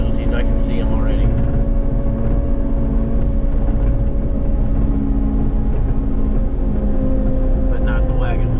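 A Cat 289D3 compact track loader fitted with a mulcher pushes through trees, a loud, steady diesel drone with a constant low hum and whining tone, close and unbroken, with faint chirps and rustles over it.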